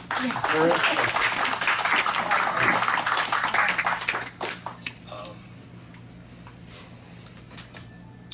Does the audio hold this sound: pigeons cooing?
no